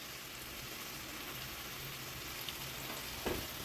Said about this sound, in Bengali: আদার সাথে হলুদ আর নুনটা ভালো করে একটু কষা হয়ে গেছে